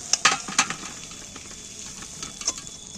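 Fish roe mixture, stirred without water, hits a hot pan and fries with a steady close hiss, with a few sharper sizzling spits near the start and one more toward the end.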